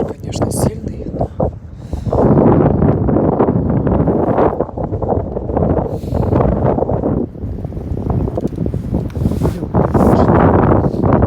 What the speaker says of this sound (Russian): Ветер, конечно, сильный